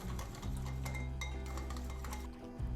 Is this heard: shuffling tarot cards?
no